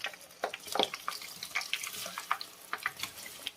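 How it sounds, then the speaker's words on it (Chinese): Breadcrumb-coated tangyuan deep-fry in oil over medium-low heat, an irregular crackle and bubbling hiss with scattered louder pops, close and without talk. "然后把裹好面包糠的汤圆给它倒进来炸一下"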